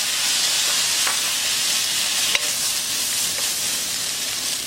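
Fish cake stir-frying in a pan with a splash of mirin for Korean eomuk bokkeum, a loud continuous sizzle and steam hiss with occasional faint clicks of stirring.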